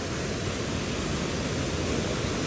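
A forest waterfall pours in a steady, broadband rush of falling water, loud and close, with no break or other sounds through the short stretch.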